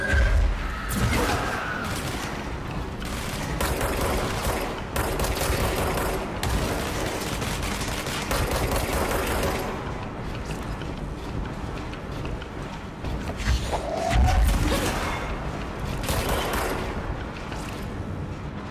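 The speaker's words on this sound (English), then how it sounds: "Oh my gosh, they're like exploding" Explosions and heavy combat blasts in the video game Control, dense and loud throughout, with bursts of crashing impacts and rapid gunfire-like crackle layered over a constant game soundscape.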